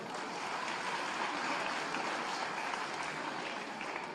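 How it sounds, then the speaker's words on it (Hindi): Applause from a large audience at a Diwali festival event in a Sindhi community hall, a dense, steady clapping roar that holds evenly throughout, close and loud with no speech. "जोरदार ताली बजा।"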